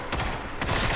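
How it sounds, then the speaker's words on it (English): Rapid gunfire in the zombie shooter video game World War Z, set in Moscow, with several sharp shots fired in quick succession at close range within a single second. "Stop shooting!"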